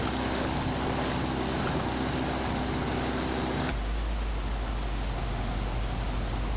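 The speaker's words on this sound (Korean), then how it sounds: "제작진은 보트를 이용해 야간 탐사를 시도했다" A boat on the Hantan River, a deep canyon river, during a night exploration: a steady, loud low rumble of the motor with broad water and wind noise, cutting abruptly to a different engine drone partway through.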